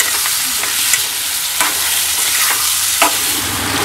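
A mixed spice blend hits hot oil for a traditional Marathi tempering while cooking a kolambi dish, a steady loud sizzle broken by a few sharp stirring scrapes and clinks.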